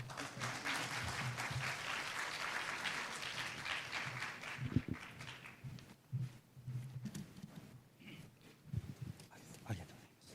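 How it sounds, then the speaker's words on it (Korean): Audience applause at an international labour-law symposium in Korea, welcoming a Japanese speaker; dense sustained clapping fills the first half, then thins to scattered claps with faint murmuring as it fades out. "큰 박수로 시작하겠습니다."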